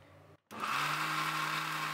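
A mixer grinder whirs loudly and steadily as it grinds soaked urad dal into batter with rice flour, rock salt and a little water; the motor starts after a brief quiet gap and then holds an even, close roar.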